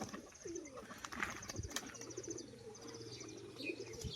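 A black male ground-tumbling pigeon flips and settles, with a brief wing flutter amid low coos and soft chirps, near and fairly quiet over a faint steady hum.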